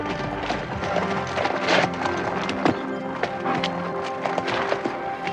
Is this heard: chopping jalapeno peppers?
no